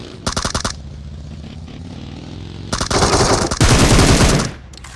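Automatic gunfire rings out in a battle-royale shooter video game: a short rapid burst, a pause, then longer, louder sustained bursts, loud and close.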